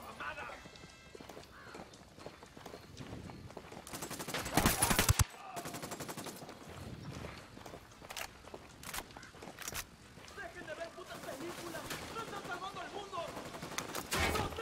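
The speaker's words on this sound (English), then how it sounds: "Open fire." Gunfire in Ghost Recon Wildlands, with bursts of rapid automatic shots, including a loud, dense volley in the middle, over a busy game soundscape with voices.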